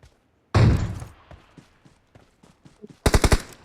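Gunfire in the BGMI battle-royale game: a loud, sustained burst opens, scattered faint shots and thuds follow, then a close rapid volley of about five shots ends it.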